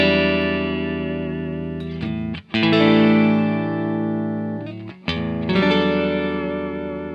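A clean electric guitar, a Fender Stratocaster Eric Johnson model played in stereo through a Fender Twin Reverb and a Vox AC30, rings out sustained chords with two brief breaks between them, loud and close.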